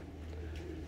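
Pigeons such as tipplers, Pakistani or Serbian flying breeds coo softly, giving a low, continuous murmur close by with no talk.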